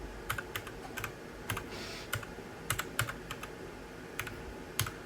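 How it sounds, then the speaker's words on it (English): Rapid clicks of a computer keyboard as an IP address is typed in for a Creality K2 Plus 3D printer setup, the keystrokes irregular and close, with short pauses between bursts and no talking. "and we type in our IP address"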